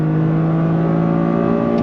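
A 2023 Toyota GR Corolla engine pulls hard and steady in second gear, a loud sustained droning whine holding close under acceleration without a break.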